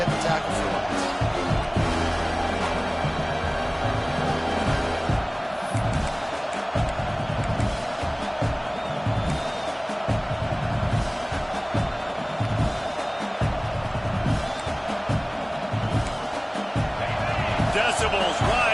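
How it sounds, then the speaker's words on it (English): Stadium crowd roar fills an American football video game on a third-down defensive play, a loud, continuous wash of noise that swells under ongoing commentary voices. "Decibels rising as the crowd gets behind this defense on third down."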